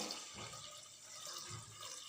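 Pre-measured water poured into a pot of ven pongal being cooked, a continuous soft splashing and gurgling pour lasting a couple of seconds, fairly quiet and close.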